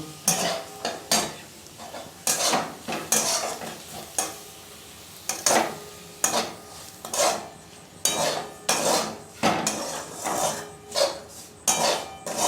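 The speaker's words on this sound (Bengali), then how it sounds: "এবার আমরা এতে ভেজে রাখা সুজিটা মিশিয়ে দেব" A spoon scrapes steadily through roasted semolina for upma in a hot pan, the strokes coming in a regular rhythm of close, bright scraping bursts over a soft sizzle.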